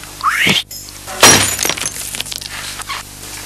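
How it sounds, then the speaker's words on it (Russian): A glass jar smashed to pieces, heard as a sharp breaking crash followed by a scatter of tinkling shards, close and loud, with a brief whistle-like sound just before. "Ты слышал, что сделала банка? Слышал, банка сделала дзынь."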